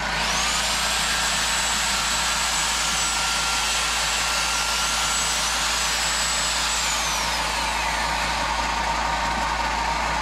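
Air compressor running steadily and loudly nearby, a constant dense roar with a sustained high whine that shifts pitch partway through, with no speech over it.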